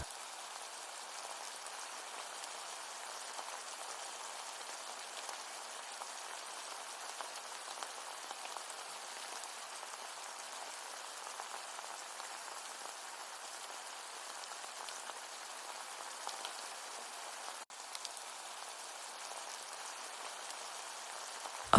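Pork giniling boils in a pan over medium heat, giving a steady, even sizzling hiss like light rain, faint and continuous throughout with no talking.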